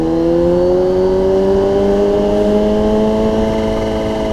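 Kawasaki ZH2 supercharged motorcycle on a ride, a loud steady engine drone with a sustained whistling whine that climbs slowly in pitch, close and continuous throughout.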